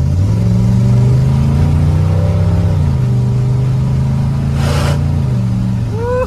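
A GMC truck engine revs and accelerates loudly and steadily from start to finish, with harmonic engine tones shifting in pitch as the speed changes and a short whoosh partway through.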